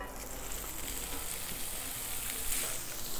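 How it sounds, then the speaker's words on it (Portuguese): Bacon frying in a pan for baião de dois gives a steady, close sizzle with soft crackles throughout. "o bacon já deu uma fritada, vamos reservar ele também"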